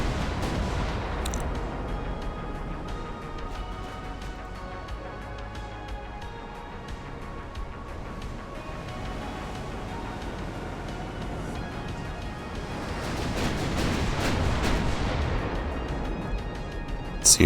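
Warship turret guns booming in the naval video game Ultimate Admiral: Dreadnoughts, a low continuous rumble of distant heavy gunfire with a swelling salvo toward the end, no voices.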